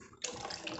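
Caustic soda is poured slowly into used cooking oil for homemade soap, giving a steady close splashing pour of liquid that starts suddenly and runs on without a break.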